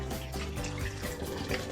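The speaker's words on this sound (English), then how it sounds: "wet your hands with warm water" Warm tap water runs steadily from a faucet over hands into a sink, a continuous close splashing wash with no talk.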